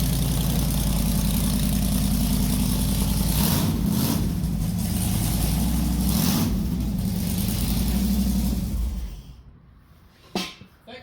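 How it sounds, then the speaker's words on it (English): A painted Yard Dart engine with a little muffler idles steadily after its ignition toggle is flipped, a loud, even low rumble that cuts out near the end, leaving silence broken by one brief knock. "just you take the ignition toggle switch, flip it down."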